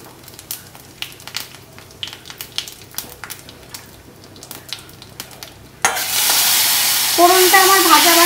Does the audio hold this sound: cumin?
yes